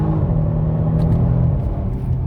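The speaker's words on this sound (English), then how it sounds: "let's go full throttle" A 2022 Genesis G70 accelerates at full throttle with a loud, close engine roar whose pitch climbs and then holds steady as a continuous rumble.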